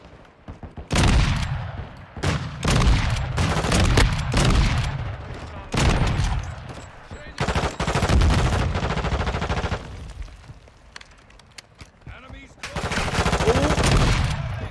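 Bursts of automatic gunfire in Call of Duty Modern Warfare 2 Beta Invasion gameplay, loud, dense volleys with brief pauses between them, heard close alongside other battle noise.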